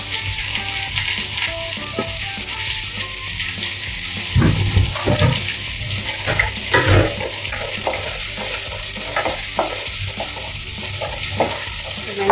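Crushed garlic and curry leaves fry in hot oil for a pirandai kara kuzhambu, a loud, continuous crackling sizzle with occasional stirring scrapes throughout.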